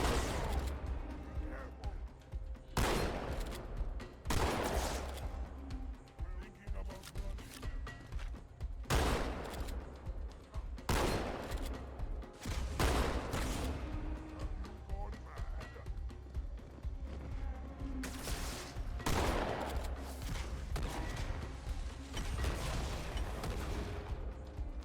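A shotgun fires in the Halo 2 video game, with repeated heavy blasts at irregular intervals across the stretch, loud against constant game noise and battle effects.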